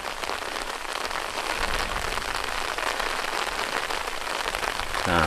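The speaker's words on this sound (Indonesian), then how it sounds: "Cuman hujannya ini masih kecil," Light rain falls near a small hut in a rice field, a dense steady patter of drops on surfaces, fairly loud and close, continuing evenly without any voices.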